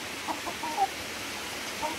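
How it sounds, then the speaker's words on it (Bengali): A large rooster gives a few soft, scattered clucks in a village yard on a rainy afternoon, faint against a steady hiss of rain. "অনেক বড় সড়ো একটা মোরগ হয়েছে এটা।"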